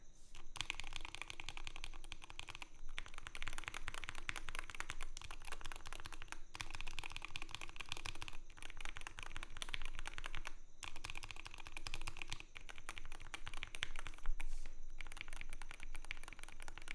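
Steady, continuous typing on a keyboard fitted with stock Wooting switches that were lubed by hand, with dense keystrokes in bursts and brief pauses, close and clear, no talking.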